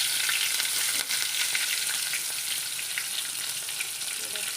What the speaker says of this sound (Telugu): సో ఫ్రై అయిపోయినట్టు ఆల్మోస్ట్. దాని మీద మనం కొంచెం కరివేపాకు వేసుకుంటున్నాం.